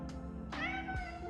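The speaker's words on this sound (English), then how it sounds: "The cat crying ever since we got here." A cat meows repeatedly, three drawn-out cries close by and fairly quiet, each rising then falling, with no talk.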